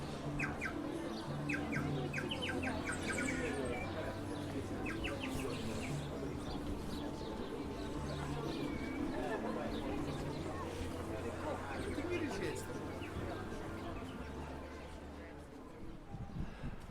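Many sparrows chirp together in a city square, a dense, continuous twittering chatter heard from a moderate distance under low background hum, with occasional deeper coos mixed in.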